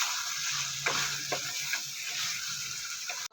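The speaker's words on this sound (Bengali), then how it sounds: "একসাথে এবার আমি একে মিশ্রণ করে কষবো ভালো করে।" Chicken pieces coated with sour yogurt and ground spices sauté in a pan for butter chicken, giving a steady close frying hiss broken by a few soft scraping stirs, with no talking.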